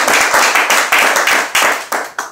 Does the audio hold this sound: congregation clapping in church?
yes